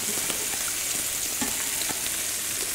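Lamb searing in a pan lined with thick slices of onion, a steady close sizzle of frying with a few soft stirring knocks and no voices.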